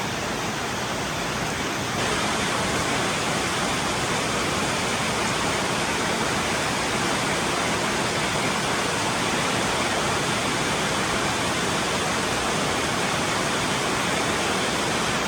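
Steady, dense roar of heavy storm rain pouring down onto a road, loud and unbroken throughout with no voices.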